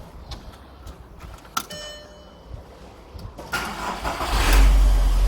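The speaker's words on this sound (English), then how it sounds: "the car should start right up" A car starts up after an oil change with fresh filters and new plugs: a short starter crank, then the engine catches and rises into a louder steady idle close by.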